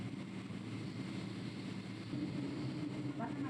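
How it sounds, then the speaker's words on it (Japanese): A steady, even rumble of airplane engines heard from inside the cabin of a domestic flight to Sapporo, with a constant low drone and faint hum as the aircraft begins taxiing. "飛行機が動き出しました"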